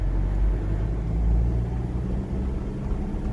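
Toyota Innova driving in second gear, a steady low engine rumble with road noise, loud and close throughout without pauses.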